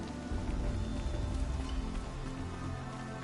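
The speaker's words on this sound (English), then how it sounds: "Rain's not so bad." Rain falls steadily in the game Horizon Zero Dawn, a continuous hissing patter of drops over a low rumbling ambience, even and moderately loud throughout with no talking.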